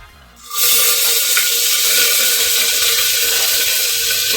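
Green chilies hitting hot oil with cumin seeds in a home kitchen, a steady loud hiss that erupts after a quiet half-second and holds unbroken to the end, with no talking.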